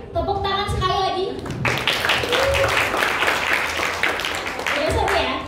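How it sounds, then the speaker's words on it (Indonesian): An audience at an Islamic marriage lecture breaks into applause after a man's brief spoken prompt: clapping starts abruptly and continues steadily to the end, with some voices mixed in. "Sebelumnya mungkin tepuk tangan sekali lagi."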